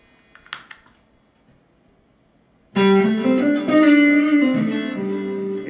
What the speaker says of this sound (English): And without this pedal, the sound is like this.